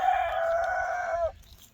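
A backyard chicken crows once, loud and close, a drawn-out call lasting about a second before cutting off into quiet.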